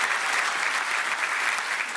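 A stand-up comedy audience claps hard and steadily, a thick close wall of applause lasting about two seconds with no speech over it.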